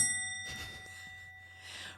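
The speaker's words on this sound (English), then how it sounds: "we've got a new bell, and that was my thing." A newly acquired bell rings once with a clear ding, its tone hanging and fading slowly over about a second and a half, with no talk.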